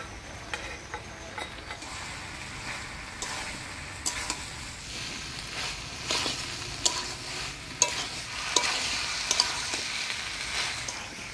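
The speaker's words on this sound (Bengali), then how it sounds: "সয়াবিন দিয়ে সবজি দিয়ে ভালো করে নাড়াচাড়া করে নিলাম" Soybeans and vegetables being stirred in a cooking pot, a steady scraping and sizzling with irregular clinks and taps of the spoon throughout, close and moderately loud, no voices.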